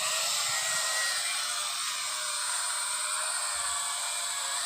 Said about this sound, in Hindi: फाइनली ड्रोन ऊपर जाता हुआ देख सकते हो आप लोग।